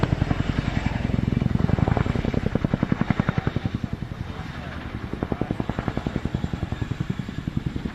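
Aircraft engine throbbing with a rapid, steady rotor-like pulse as it climbs at an airshow, loud and continuous throughout, with a narrator talking over it.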